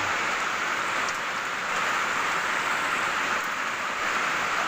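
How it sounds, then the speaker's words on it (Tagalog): Steady, dense rain patters continuously with a broad hiss on a bamboo-and-thatch hut in the mountains, close and fairly loud, with no voices and no letup. "umuulan umuulan ngayon dito sa amin"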